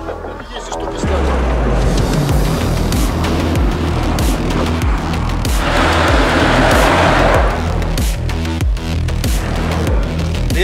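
An off-road SUV on a rough trail revs its engine hard in repeated bursts, loud and close, with tyres churning and people talking throughout.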